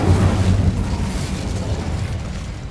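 A fire spell being cast in the video game Hogwarts Legacy, a loud, dense burst of flame and rumble that starts strong and fades slightly over a couple of seconds.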